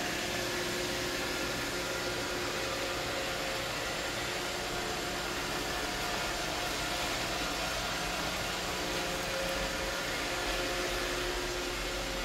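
An iRobot Roomba 690 robot vacuum cleaner runs in an empty room, a steady broadband whirring hum with faint motor tones, constant and fairly quiet throughout, no voices.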